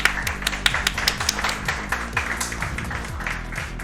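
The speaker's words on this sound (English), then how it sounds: "That, honestly, a round of applause" Audience applause at a speedrun marathon run of The World's Hardest Game 3: a steady patter of fairly quiet, scattered claps over continuous game music.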